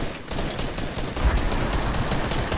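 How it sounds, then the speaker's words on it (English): Dense video-game gunfire from several players at once, a steady stream of overlapping shots and bursts that stays loud and close throughout, with no voices over it. "You have four people shooting at you"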